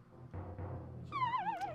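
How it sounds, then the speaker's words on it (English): A pet cat gives one clear, drawn-out meow with a wavering pitch, close by and fairly loud, after some low background rumble and room noise. "Eh, she's a good kitty."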